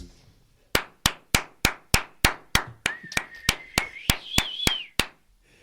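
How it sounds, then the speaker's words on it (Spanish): About sixteen sharp, evenly spaced claps ring out one after another, loud and close, with a faint tonal hum rising in pitch behind the later claps. "escuche el aplauso"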